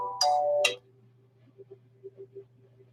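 A phone signals an incoming call with two short, bright chime tones in quick succession, followed by quiet and a few faint, soft blips.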